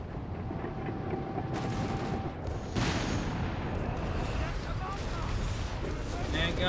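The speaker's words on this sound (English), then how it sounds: "There you go, another whiz-bang barrage." Rocket artillery barrage from German whiz-bang launchers in the World War II strategy game Company of Heroes 3, a dense continuous rumble of explosions with a sharper blast near the middle, under distant battle noise.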